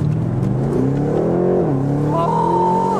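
BMW M8 Competition Convertible accelerating hard in rear-wheel drive, its engine note climbing loud and close through the revs, briefly dipping at a gear change, then rising again with a whining overtone.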